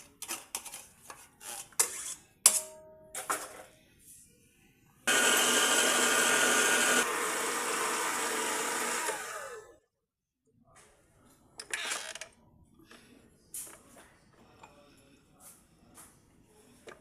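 An electric mixer whirs steadily for about four seconds, blending egg pie filling made with condensed and evaporated milk, with scattered kitchen clatter and knocks before and after the loud continuous run.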